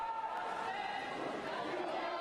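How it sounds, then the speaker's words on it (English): A sports crowd at a water polo game gives off a steady, distant roar of cheering and chatter, continuous and fairly faint throughout. "Crowd here in a frenzy."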